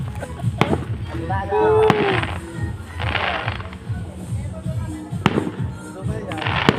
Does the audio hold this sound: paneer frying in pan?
no